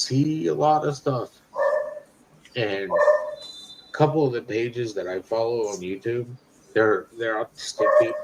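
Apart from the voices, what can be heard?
dog barking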